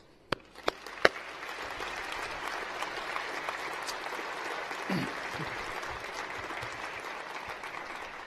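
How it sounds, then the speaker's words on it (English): A few loud claps ring out at the start, then sustained applause from a large audience at a university graduation ceremony fills the hall, holding a steady level to the end. "you all deserve a huge round of applause"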